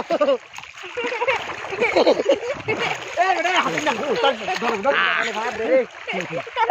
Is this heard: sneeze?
no